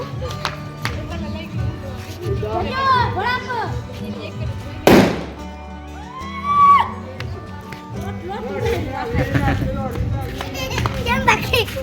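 A single sharp firecracker bang bursts out amid children's excited chatter and shouting, with a few fainter pops around it.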